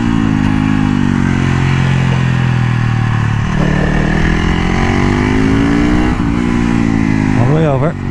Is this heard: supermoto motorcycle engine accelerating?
yes